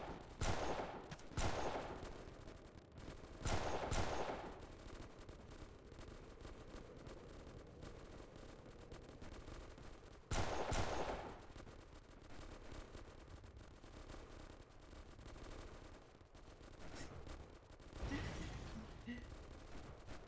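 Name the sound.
gunfire barrage from Delta Force Xtreme video game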